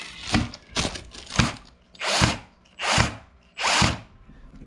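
A power drill drives a screw into the underside of a homemade motorhome sink, six short whirring bursts, the first three brief and the last three longer and fuller, close by with no speech.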